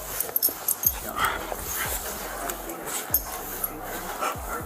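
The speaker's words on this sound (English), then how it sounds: "You're a cute little dog." A small dog whimpers and gives short yips and barks, several brief, close, uneven bursts, while a person speaks softly over it.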